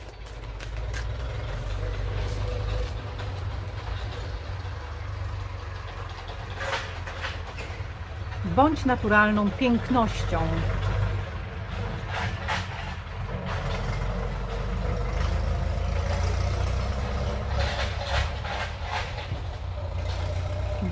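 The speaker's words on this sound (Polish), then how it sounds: "Nawjeżdża traktor, muszę go przeczekać." A heavy tractor engine rumbles steadily nearby, swelling as the tractor passes, with a brief tonal squeal and someone speaking over the noise.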